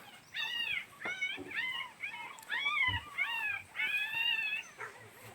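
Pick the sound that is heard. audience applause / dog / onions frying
dog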